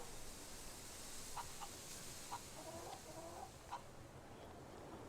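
Chickens cluck faintly in short, scattered bursts during a chicken race in the Fable 3 video game, over a steady hissing background.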